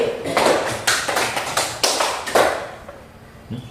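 A classroom of students claps hands together in a counted burst of about five sharp, roughly even claps, fairly close and loud, then fading to quiet.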